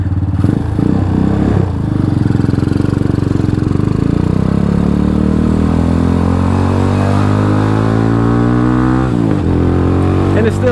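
A DF250RTS motorcycle with a single-cylinder engine, catalyst removed, pod filter and carburetor, runs steadily and loudly up close, with a firm throbbing idle that climbs in pitch toward the end and then drops back.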